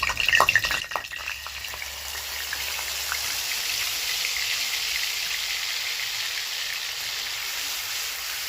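Whole garam masala and small cardamom fry in hot oil with a cashew-chilli paste, giving a steady, even sizzle after a brief clatter at the start, close and moderately loud with no talking.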